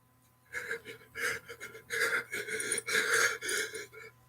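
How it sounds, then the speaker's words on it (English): Quick, rhythmic breathing sounds, panting bursts and gasps in a steady series, fairly close and moderately loud with no talking over them. "They're just breathing."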